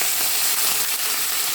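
Black pepper and curry leaves sautéing in hot oil, a steady dense sizzle that stays loud and even throughout with no voices.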